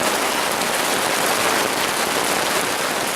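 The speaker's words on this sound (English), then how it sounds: "Well, we got a little rain." Rain pours down onto a tarp at a bushcraft camp, giving a dense, loud, even hiss of countless drops that keeps up without a break and has no voices over it.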